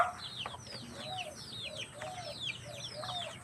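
Backyard chickens and chicks cluck and chirp repeatedly at close to moderate range, a busy overlapping patter of short calls over faint outdoor ambience.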